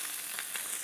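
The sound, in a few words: red mullet sizzling on a grill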